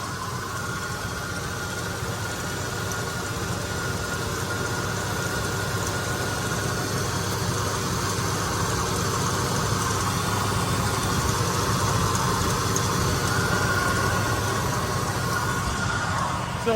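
A restored 1983 Jeep engine idles steadily, a continuous low rumble with an even vibrating hum, heard up close and unbroken for the whole stretch with no talking.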